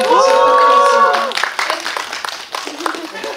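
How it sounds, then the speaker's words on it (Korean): Applause from an audience at a Korean film premiere screening Q&A, a dense burst of clapping rising loud and close after a brief musical tone, then continuing steadily as scattered hand claps. "박수 부탁드리겠습니다"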